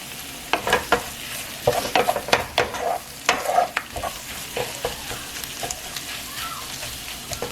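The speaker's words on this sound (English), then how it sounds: "you're just going to start stirring those eggs in with your tortillas and onions" Eggs being stirred into tortillas and onions in a frying pan: repeated scraping strokes of a utensil over steady sizzling, loud and close, with irregular bursts of stirring throughout.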